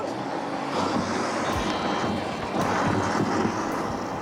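A hand-packed gummy bear rocket motor sputters and fails to ignite properly, giving a steady rough hissing rush with faint irregular pops, moderately loud and continuous throughout with no voices.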